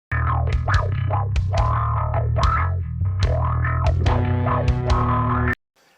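A psychedelic bass guitar intro to a metal song, heavily effected and distorted, with swooping, sliding phrases over a sustained low drone that rings loud and steady before stopping abruptly.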